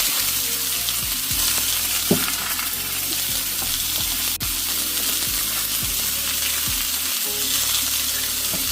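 Meat sears steadily in a hot pan with a continuous broadband sizzle, punctuated by a few low clinks and a sharp tick from the utensil, close and alone with no talk.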